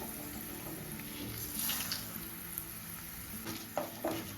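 Urad dal, mustard seeds, dry red chillies and garlic fry in hot oil for a tempering, giving a steady soft sizzle with a few brighter crackles and pops toward the end, fairly quiet and with no talking.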